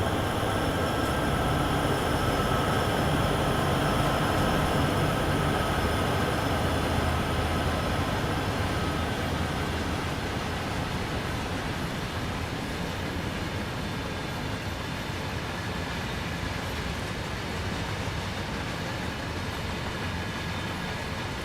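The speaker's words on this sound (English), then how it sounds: "Marvellous long trains." Long trains run in Train Sim World 4 with a sustained rolling rumble and faint steady whining tones, holding a constant, moderately loud level throughout without speech.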